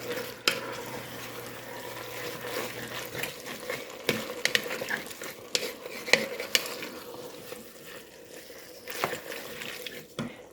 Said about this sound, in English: I'll stir that around to get that tomato paste blended